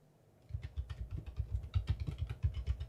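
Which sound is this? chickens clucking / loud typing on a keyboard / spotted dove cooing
loud typing on a keyboard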